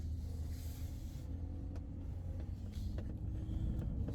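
An off-road vehicle pulls out of a driveway, a steady low engine rumble with road and tyre noise throughout, moderately close, no voices.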